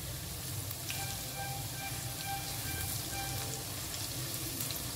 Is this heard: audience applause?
no